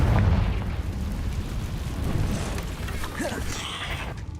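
A Confringo fire-blast spell bursts in the video game Hogwarts Legacy inside a cave, a loud booming explosion that rolls into a rumbling decay with crackling debris.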